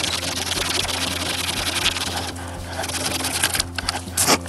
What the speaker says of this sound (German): Für die feineren Arbeiten nehme ich dann doch noch mal die Säge.